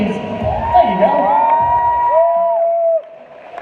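Crowd cheering and whooping for BMX rider Dane at a bike event, a loud sustained mix of shouts and high whoops that cuts off sharply near the end, leaving quieter background noise.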